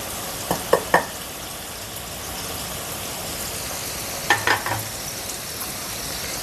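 Chili and pickle powder sizzles in hot oil for a cardamom pickle, a steady close hiss marked by a few brief scrapes of stirring.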